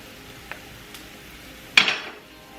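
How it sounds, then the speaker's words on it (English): A utensil stirs a small amount of olive oil in a pan while huevos mexicanos are being made, with a couple of light taps followed by one louder metallic clink and scrape, close up and without speech. "Stir that around a little"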